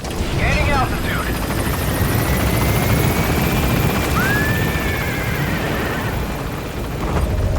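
A helicopter lifts off in the video game Metal Gear Solid V, its steady rotor roar filling the scene at close range, with a brief whinny-like cry and voices heard in the mix.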